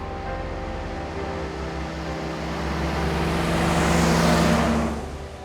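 A Willys Overland Jeep driving with its windshield down, engine rumbling steadily at close range and swelling louder toward the end as wind and road noise build, with no talking.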